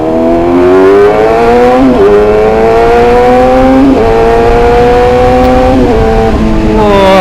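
A modified Yamaha R6 racing motorcycle revs hard and close, its engine pitch climbing in repeated sweeping pulls with brief drops between gear shifts, loud and continuous.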